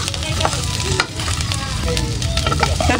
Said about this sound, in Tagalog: Kaya na pong igigisa po itong mga ricado.